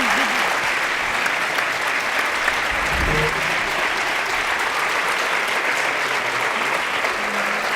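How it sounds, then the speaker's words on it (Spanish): Audience applause at the close of a talk by Arturo Pérez-Reverte and Juan Luis Arsuaga at iRedes 2011, loud, sustained clapping from a full hall, even and unbroken throughout, with a brief voice murmuring beneath it. "Un aplauso para Arturo Pérez Reverte y Juan Luis Arzuaga."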